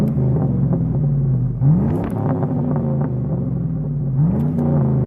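A pickup truck's modified exhaust, rid of its drone, rumbles at a low steady idle and rises in two short revs, heard close and alone.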